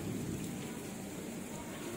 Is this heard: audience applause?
no